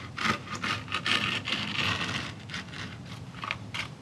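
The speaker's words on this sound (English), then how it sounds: "And you just cut off all the grip tape." A blade cuts excess skateboard grip tape around the board edges, making a steady, close, gritty scraping rasp in repeated strokes.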